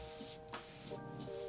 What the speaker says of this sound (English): Using Cushionrite spray adhesive, spray one side of the foam and place it onto the bag panel